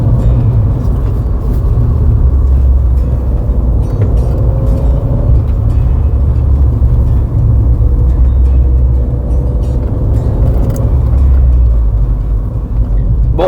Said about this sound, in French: Le moteur est un peu spécial, c'est-à-dire que c'est un 3 cylindres